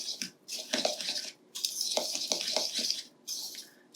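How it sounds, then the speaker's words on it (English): A fork clinks and scrapes against a bowl while stirring a Parmesan crust topping for a chicken casserole, in short bursts of rapid metallic tapping with brief pauses between. "So I'm just gonna stir that up with a fork."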